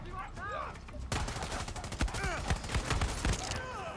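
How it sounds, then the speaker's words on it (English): Dense bursts of gunfire in the Far Cry 6 video game, rapid loud shots and volleys after a quieter opening, with brief voice-like sounds in the mix. "They are shooting at us"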